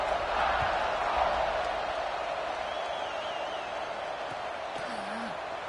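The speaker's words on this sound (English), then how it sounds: "this crowd is buzzing after that last score" A stadium crowd at a football game against Michigan keeps up a steady, broad buzz of massed voices. The roar stays loud and even throughout, with no single voice standing out.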